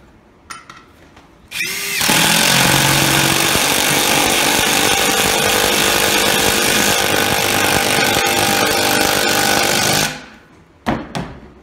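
Loud, close whine of a power drill driving screws in a Rockwell versus DeWalt comparison, starting abruptly and holding one continuous, steady run of about eight seconds before cutting off, with faint handling clicks before and after.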